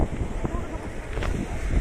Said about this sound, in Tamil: நல்லா ஃபோர்ஸாக வந்து தண்ணி விழுகுது